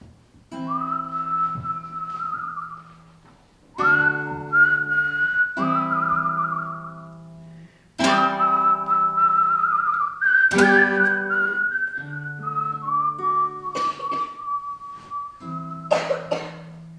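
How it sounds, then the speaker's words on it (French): A person whistles a short melodic tune, alone and close, in several phrases separated by brief pauses, with notes held and sliding between pitches. "il se tourne vers le lac et siffle au vent ce petit air"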